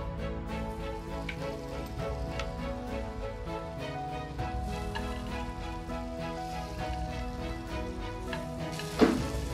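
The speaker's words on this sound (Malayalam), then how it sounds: "ഇനി പാൻ വെച്ചിട്ടുണ്ട്, ഒരല്പം കൂടെ ബട്ടർ ഇട്ട് കൊടുക്കാം." Butter melting and sizzling in a pan, with a steady, even sizzle over a tonal hum and a brief sharp burst near the end.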